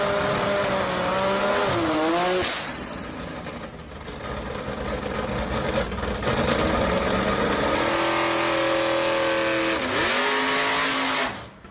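A Datsun 260Z fitted with an OS Giken 3-litre engine drag racing at Sendai Highland. It revs loudly and up close, its pitch sweeping up in hard pulls with a couple of sharp drops between gears, then a final rising scream before cutting off.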